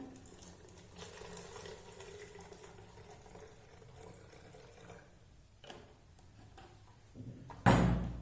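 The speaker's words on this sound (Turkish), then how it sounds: "Evet böyle su koyduk." Water runs from a tap and fills a container set on a tray, a soft, faint trickle with a few light knocks and a louder clunk at the end.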